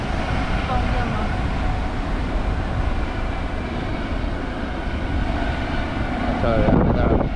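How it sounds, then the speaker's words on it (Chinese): A helicopter passes over a beach in Sanya, a continuous loud rumbling drone that swells near the end, with people talking beneath it. "现在还有直升飞机"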